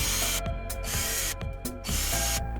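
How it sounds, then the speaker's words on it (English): An X-Carve CNC router cuts into an MDF block with a steady, loud, continuous mechanical whine and grinding, briefly dipping and rising as the bit moves through the wood. "We'll test this out by routing some of this MDF block."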